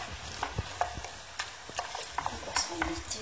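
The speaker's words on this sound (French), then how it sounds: "sur un feu, je vais mélanger correctement la farce afin que l'ensemble des ingrédients se mélangent ensemble" A seafood pastilla filling of fish, crustaceans, rice vermicelli and mushrooms being stirred in a pan over the heat: quiet scraping and soft clinking strokes in an irregular rhythm, with a faint sizzle underneath.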